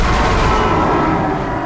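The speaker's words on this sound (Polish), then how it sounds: "udało mi się jeden strzał oddać." A dense, continuous roar of gunfire from the video game Dead Space (2008) fills the whole stretch, loud and unbroken, with no speech over it.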